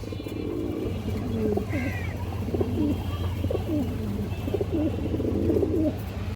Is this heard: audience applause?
no